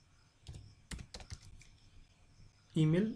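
Brief bursts of clicking keystrokes on a computer keyboard while coding a web form, close and crisp, ending in a louder clatter.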